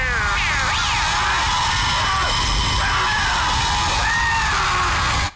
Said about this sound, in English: He screams.